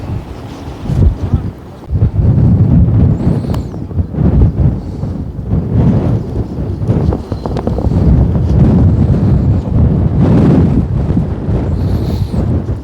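Strong wind buffets the microphone at an outdoor PRS shooting range competition, a loud continuous roar with gusts swelling and easing across the whole stretch, no other sounds standing out.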